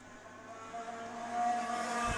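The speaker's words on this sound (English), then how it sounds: "You can just hear the engines there on the limiter." Racing kart engines held on the rev limiter during an IKC championship race, a buzzing high-pitched whine with a steady droning tone that swells slightly louder toward the end, heard from a distance.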